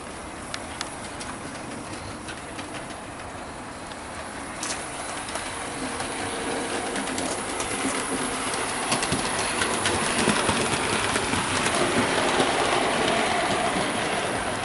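A Bachmann LMS Jubilee 'Nelson' model locomotive pulls a train of carriages along its track with a continuous rumbling clatter that grows slightly louder as it goes, with no talking.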